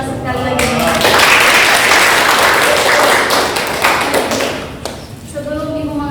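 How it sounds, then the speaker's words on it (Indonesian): A classroom group claps together in sustained applause, dense and steady, then fades as a voice resumes talking. "tepuk tangan sekali lagi"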